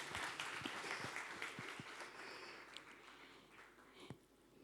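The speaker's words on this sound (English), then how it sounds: "A round of applause for two of them." Faint, distant round of applause at a memorial event, scattered claps with a few sharper ones standing out and thinning toward the end.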